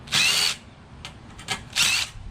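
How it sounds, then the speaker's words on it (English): A cordless impact driver fitted with a step bit drills through sheet metal from the back side in two short, loud bursts, with light clicks and taps in between. "I use cordless impact with the step bit on it, and I go in from the back side"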